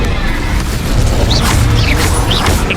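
Incendio fire spell cast in the video game Hogwarts Legacy, a loud, dense whooshing boom of flame sustained for nearly three seconds, with bright magical swishes on top.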